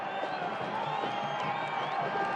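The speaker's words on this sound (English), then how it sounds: "Listen to that crowd." A stadium crowd at a Louisville City versus Charlotte Independence USL Championship football match sends up a steady, distant roar of cheering that stays even and sustained throughout, with no single standout shout.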